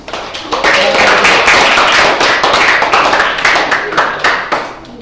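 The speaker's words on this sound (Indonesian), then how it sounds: "Terima kasih, kita berikan aplaus." An audience claps for a group after its presentation in a classroom. The dense, loud applause starts quickly, holds steady for several seconds, then thins out. A voice is heard briefly under the clapping.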